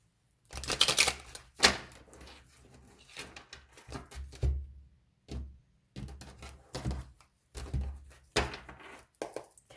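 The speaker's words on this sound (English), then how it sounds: "I'll give it one more shuffle." Crisp riffling and soft slaps of tarot cards being shuffled, in quick bursts separated by short pauses, close up and fairly quiet.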